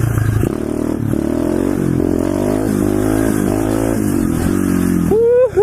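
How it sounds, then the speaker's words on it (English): A pit bike doing a burnout, its small engine held at a loud, steady high rev with strong harmonic drone and tire scrub, then dropping and flaring up again with a quick rev near the end. "Well, Darwin, take that burnout, boy."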